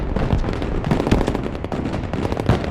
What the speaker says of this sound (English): Striker under fire!